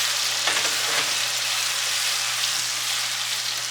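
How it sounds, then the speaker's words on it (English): Nigerian jollof rice base sizzling and frying in a pot while being stirred, a continuous close crackle with a couple of faint scraping strokes near the start and a low steady hum underneath, no voices. "So you're going to keep stirring this."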